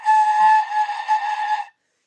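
A flute sounds one sustained, breathy note for about a second and a half with the embouchure aperture held too open, giving an airy, wavering tone that cuts off cleanly into silence.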